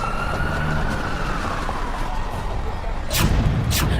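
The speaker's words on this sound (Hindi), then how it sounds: "एम्बुलेंस बुलाई गई।" An ambulance siren wails with a steady rising-and-falling tone over low road rumble, heard at moderate distance with a couple of sharp bursts near the end.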